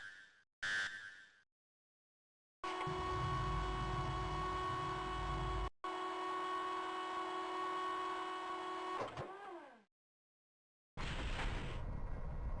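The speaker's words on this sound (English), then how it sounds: "The tram goes in there, and once the door closes behind it, it's switched over to the next part of the track." Video game tram rolling through an enclosed chamber, a loud sustained mechanical drone with bright tonal whine and rumbling underbody, cut by a brief break, then fading with a falling sweep before a new burst of noise.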